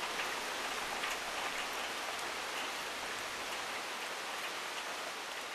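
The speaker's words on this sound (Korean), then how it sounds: "거세게 몰아치는 소나기" A heavy tropical rain shower pours down on Chuuk island in Micronesia, a dense and unbroken hiss of falling rain with no voices.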